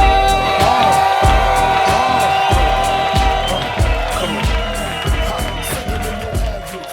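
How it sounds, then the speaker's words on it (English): Crowd cheering, whooping and applauding as comedian Mike Rita is brought on stage at a stand-up show, a loud sustained roar with steady bursts throughout. "Please give a thunderous applause to my man, the myth, the legend."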